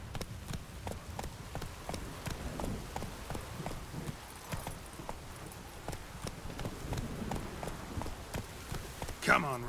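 Hooves clip-clop in a quick, steady galloping rhythm as the horse Roach runs in The Witcher 3: Wild Hunt, close and continuous over low background ambience.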